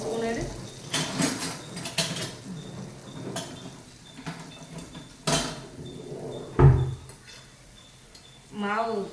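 Paniyaram being flipped in a new paniyaram pan, with scattered metallic clinks and scrapes of a utensil against the pan at close range under light sizzling, while someone talks in between.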